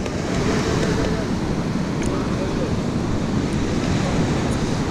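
Ocean surf on an Australian beach between Hervey Bay and Noosa Heads, heard as a steady, loud, continuous wash of breaking waves mixed with wind buffeting the microphone.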